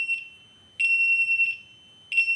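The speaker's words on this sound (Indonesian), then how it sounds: "buzzer kamar kapten menyala" The captain's cabin buzzer of a ship's bridge navigational watch alarm system gives a series of loud, shrill, steady electronic tones, one short and two longer, separated by silent gaps.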